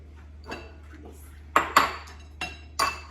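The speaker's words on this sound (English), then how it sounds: "I'm gonna stir fry now" Utensils clink and scrape against a pan while eggs and vegetables are stir fried, four or five sharp metallic knocks over a faint steady background hum, no talking.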